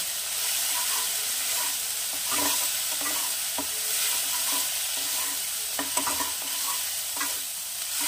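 Spice paste with turmeric and chili powder sizzles and fries in a pan for Bengali koi fish curry, a steady close hiss with scraping stirs of a spatula, no talking.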